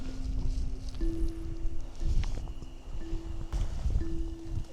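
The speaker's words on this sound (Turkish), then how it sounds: "Hiç rüzgar durmadı." Steady wind roaring and buffeting outdoors at a lakeside campsite during a near-storm at Tödürge Lake, Sivas, a constant low rumble with gusty swells and a faint tonal hum underneath, no talking.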